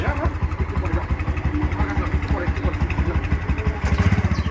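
A motorcycle engine putters along at low speed, a close, steady pulsing thump with a rhythmic mid-range chug, while a voice speaks over it.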